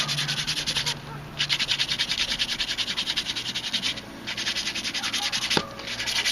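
Sandpaper rubs back and forth over a small wooden block for a Native American flute in steady, close strokes, with a brief pause around the first second and another near four seconds.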